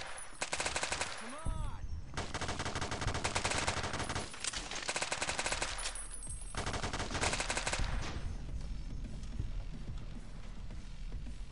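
Rapid bursts of automatic gunfire firing armor-piercing ammunition in the video game Fallout: New Vegas, loud and sustained, with dense overlapping shots and brief pauses between volleys.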